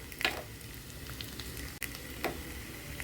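Potatoes and plantains sauté in a pan with a continuous low sizzle and a couple of brief scraping stirs.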